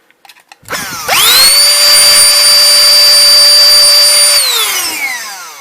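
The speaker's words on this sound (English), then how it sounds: "We're going to now try the brush attachment to see how well it can clean the dust from all of these little crevices." A Canless Air O2 Hurricane electric cleaning system with a brush attachment spins up after a few clicks into a loud, steady high-pitched whine with a strong tonal hum, holding for several seconds before starting to wind down.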